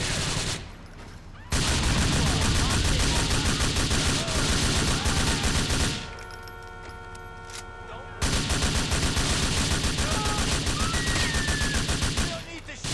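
Rapid automatic gunfire crackles in bursts in Grand Theft Auto IV, loud sustained volleys separated by brief lulls where voices and a siren-like tone surface.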